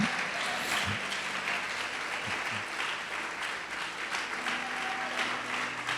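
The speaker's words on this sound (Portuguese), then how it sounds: "Pode aplaudir e glorificar o Senhor." A church congregation applauds together in a sustained, dense round of clapping, with a few brief voices rising under the noise.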